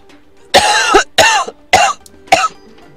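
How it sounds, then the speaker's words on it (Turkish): Four harsh coughs in quick succession, close and loud, with brief pauses between them and no talking. "Öksüreceğim."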